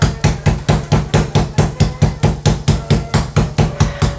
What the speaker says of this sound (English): the first step is to beat with this hammer to make it soft